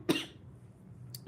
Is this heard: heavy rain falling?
no